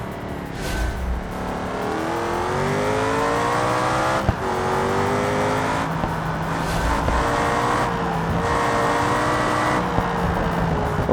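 In BeamNG's vanilla career mode, a car engine roars at full throttle through a time trial. The note holds loud and steady with rising and falling pitch, and a brief thud lands near the middle.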